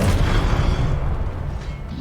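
A deep booming blast from the Confringo spell in the Hogwarts Legacy video game, a loud low thud at the start that rumbles and slowly fades over two seconds.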